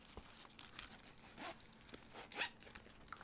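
A zipper runs along the front pocket of a fabric knitting project bag, giving several short, quiet rasping pulls with brief pauses in between, close by and alone.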